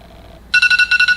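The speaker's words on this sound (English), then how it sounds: "I turned my phone off, but I didn't realize I had an alarm set." A phone alarm goes off abruptly after a short quiet moment, a loud electronic ringtone pulsing in quick regular bursts, close and alone without talk.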